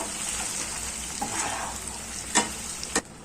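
Onion, ginger-garlic paste and cashews sizzle steadily in hot oil in a pan for chicken gravy, with a few scraping stirs of a spoon near the end over the constant frying hiss.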